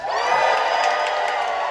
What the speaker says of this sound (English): the crowd is going to scream and cheer for you, just like this